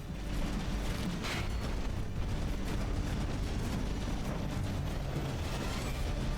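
Battleship guns firing in the naval combat game From the Depths, a dense, continuous roar of overlapping booms and rumbling blasts that stays loud for the whole stretch with no gaps.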